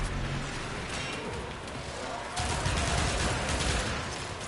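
A secondary gun firing in the Warframe video game: rapid, dense bursts of shots in a continuous barrage, growing louder and heavier partway through, with some voice underneath.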